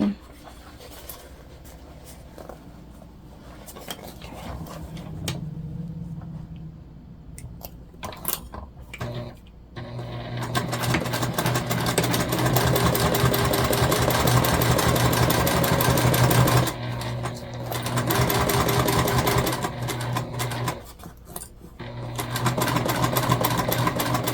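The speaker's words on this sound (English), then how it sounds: "we are going to stitch across the bottom." Sewing machine stitching across the bottom of a self-drafted fabric tote bag, a steady mechanical whir running in long stretches with brief pauses, near and loud, with occasional talking around it.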